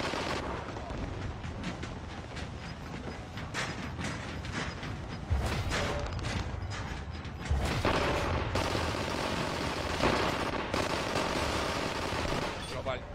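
Rapid automatic gunfire and heavy blasts from a shooting video game, loud and continuous in dense bursts with a player shouting excitedly over it.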